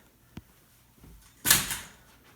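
A chin-up bar is shifted on a door frame, a small knock followed by a louder metallic clank and rattle, close and brief in a quiet room.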